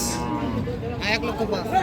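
A Sahiwal cow lows briefly at a busy cattle market in Tangail, a short, close moo amid crowd murmur and voices in the background.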